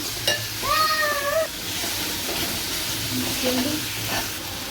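Onion, ginger and garlic fry in a pan, a steady soft sizzle with stirring sounds, with a brief wavering tonal squeal and a few knocks near the start.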